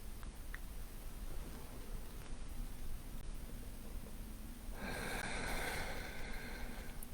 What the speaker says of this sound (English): just start by taking a few deep inhales and exhales